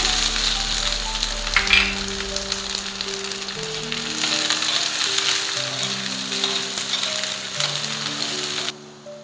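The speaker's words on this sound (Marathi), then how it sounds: "आता अद्रक आणि लसूण टाकूया" Ginger and garlic fry in hot oil, producing a loud, continuous close sizzle with a soft, steady tonal background running underneath.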